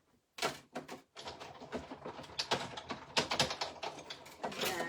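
Paper being cut for a handmade graduation card, likely with scissors, gives a quick run of close, crisp snipping and rustling bursts that starts after a brief silence and continues steadily to the end.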